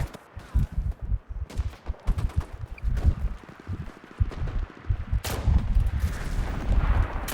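Gunfire from long range in the shooter game Enlisted: overlapping shots and bursts crack in irregular volleys through a dense battle din, moderately loud and continuous, with a sharper heavy blast partway through.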